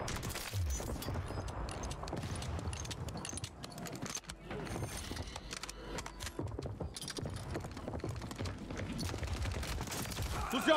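KAR98K rifle gunfire in a video game match on Rebirth Island: loud, close shots and bursts of fire packed into a dense, continuous wash of battle noise that runs for the whole stretch without pause.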